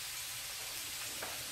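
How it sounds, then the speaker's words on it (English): Potatoes frying in a pan, a steady close sizzle and crackle of hot oil with faint stirring. "So, I'm going to get the potatoes in."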